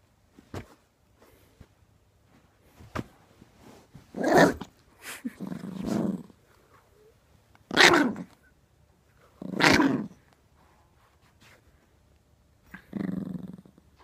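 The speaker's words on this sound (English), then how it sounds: "I love my dog, guys." A dog growls in several separate low, throaty bursts with quiet pauses between them, loud and close with some grumbling rumbles and no talk.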